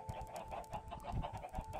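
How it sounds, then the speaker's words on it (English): Minecraft chickens give quick, soft clucks and clicks in bursts over a steady in-game tone, quiet and continuous for a couple of seconds. "Chickens actually have a new, like, clicking sound to them."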